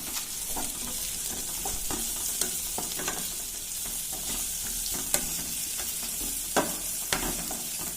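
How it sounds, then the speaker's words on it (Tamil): Finely chopped carrots stir-fry with onions in a pan for chickpea sundal, a continuous bright sizzle punctuated by a few clinks and scrapes of stirring, heard close with no talking. "இப்போ வந்து கேரட் போட்டுக்கலாம். பொடியா நறுக்கின கேரட்டை"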